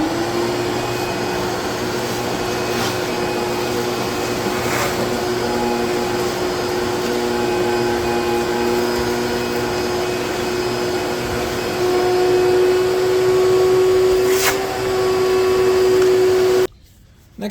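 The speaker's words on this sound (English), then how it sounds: "just vacuum all this junk up" A vacuum cleaner sucks mouse-damage debris and junk out of a 1960s barn-find Vespa scooter that sat for 52 years, a steady close motor whine with airflow that shifts pitch as the nozzle moves, then cuts off abruptly near the end.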